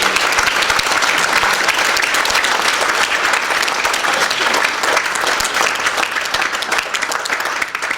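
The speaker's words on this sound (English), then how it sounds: "I think deserves another massive round of applause" A conference audience at an international head and neck cancer event gives a loud, sustained round of applause, dense clapping that fills the hall evenly for several seconds.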